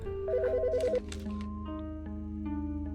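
A phone rings in the video game Autopsy Simulator: a short burst of rapid electronic trilling tones, followed by a layer of game music and chimes, with no voices.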